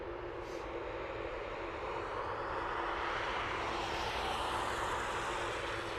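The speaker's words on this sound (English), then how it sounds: "The sound from these big engines is absolutely amazing." Delta jet airliner engines roaring at Dublin Airport, a loud, sustained broadband rumble and whine building steadily through the whole stretch with no voices.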